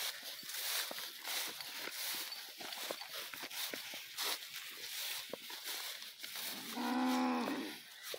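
Cattle, heifers and a cow being moved between pens on a farm: a single clear moo near the end over a quiet outdoor background of shuffling hoof steps and rustling.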